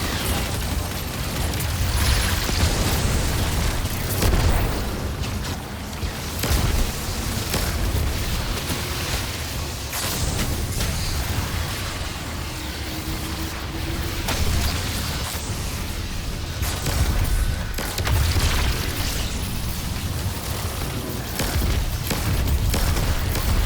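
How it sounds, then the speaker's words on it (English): Explosions and heavy booms from a mine detonating in Destiny 2 roll on without a break over a dense, loud bed of combat noise with repeated bursts, and no one speaks. "But a mine is getting dangerously close to detonating."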